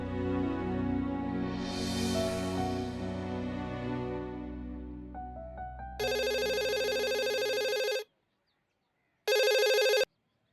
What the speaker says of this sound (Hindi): जोया, माँ जी, अब्बा जी, जोया का फोन है।